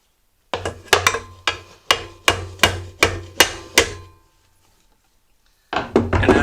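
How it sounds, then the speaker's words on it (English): A screwdriver taps repeatedly on the choke of a Briggs & Stratton engine, about nine crisp metallic knocks in an even rhythm, close and loud, then a pause before a few more taps. "All you do is put your screwdriver on there"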